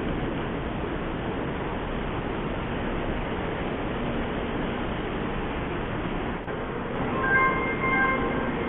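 Steady broadband rumble of a Taiwan High Speed Rail train idling at Taoyuan station, a continuous hiss filling the clip, with faint high tones chiming in near the end as it prepares to depart.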